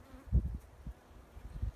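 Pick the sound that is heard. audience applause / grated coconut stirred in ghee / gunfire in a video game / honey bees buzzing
honey bees buzzing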